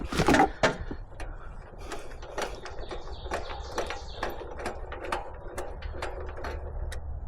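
A jack ratchets to raise a sawmill for leveling, a series of sharp metallic clicks and clacks repeating irregularly at close range, fairly faint and alone.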